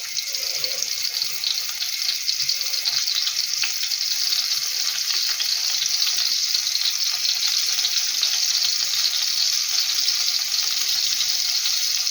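Steady, loud sizzling of meat patties frying in a pan, a continuous hiss with faint crackles throughout and no talking.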